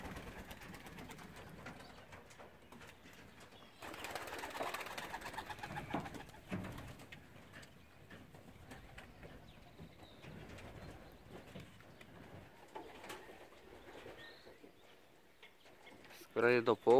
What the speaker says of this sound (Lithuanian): Skraido paukščiai.